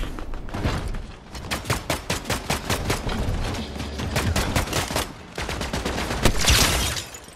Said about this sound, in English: They're literally shooting me down.